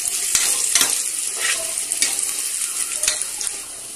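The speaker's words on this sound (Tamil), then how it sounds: "அடுத்ததாக ஒரு வெங்காயம் ஆட் பண்ணிக்கிறேன். வெங்காயம் கொஞ்சம் வதங்கினதுக்கப்புறமா" Onion frying in a pan, seasoned with asafoetida, sizzles steadily up close while a spoon scrapes and stirs it with light clinks.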